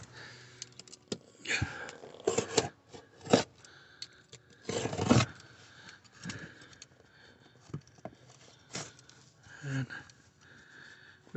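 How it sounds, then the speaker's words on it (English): Foam pad being cut for a Cadillac Escalade fuel pump job, a series of quiet close snips and scraping rubs in irregular bursts separated by pauses. "Now we got this foam, which we're gonna cut it to."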